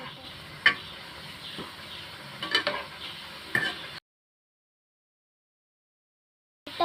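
Egg roast masala is stirred in a pan, scraping and clinking of a spoon over a soft sizzle, with a few sharper taps against the pan before the sound drops out into silence.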